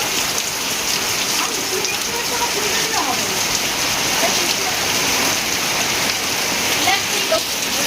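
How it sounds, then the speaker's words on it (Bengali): Heavy rain pours down steadily over a home garden with trees, a dense unbroken hiss of drops hitting leaves and ground, close and loud throughout with no letup. "প্রচণ্ড বৃষ্টি হচ্ছে।"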